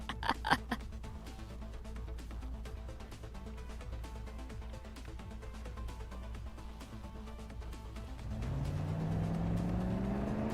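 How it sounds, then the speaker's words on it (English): A jeep engine in a video game rumbles low and steady as it draws closer, then builds to a louder rising roar near the end. "The roaring sound of an engine grows ever closer, quickly followed by a jeep, and a trail of dust behind it suddenly coming into view"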